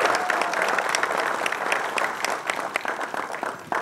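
Loud, dense applause from an audience at the Television Premier League celebrity cricket event in Karnataka, a sustained wash of many hands clapping close up that fades slightly toward the end.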